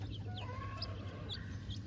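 Chickens cluck softly at a distance, a few short calls spread over a low steady background hum with faint higher chirps, no talking.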